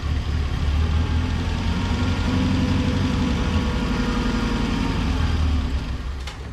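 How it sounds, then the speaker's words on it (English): A 1983 Mazda B2000 minitruck engine, with a vacuum leak, idles smoothly and steadily up close with a low rhythmic thrum, then fades slightly at the very end. "that engine sounds super smooth"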